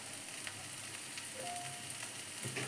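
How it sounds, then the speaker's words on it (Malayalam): Coriander and turmeric powders fry in a pan for cheese noodles, giving a steady close sizzle with light stirring sounds and no talking. "ഇതിട്ട് നമുക്കൊന്ന് നന്നായിട്ട് ഇളക്കി യോജിപ്പിക്കാം"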